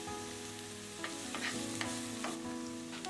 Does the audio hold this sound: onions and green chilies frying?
yes